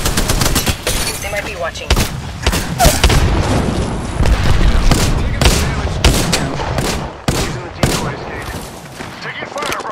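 Gunfire in an Apex Legends match, loud and close: rapid bursts and repeated single shots with sharp booms spread across the stretch, and a character voice speaking briefly over the shooting.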